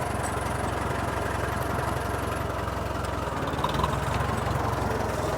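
An old tractor engine runs in second gear with a steady, close, chugging drone that stays even throughout, no voices over it.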